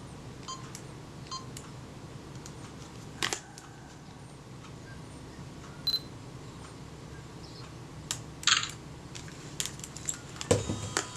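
A camera shutter fires with sharp mechanical clicks during a Synchro Compur shutter service for a Linhof camera, set against a quiet workbench room with a few scattered small clicks and taps.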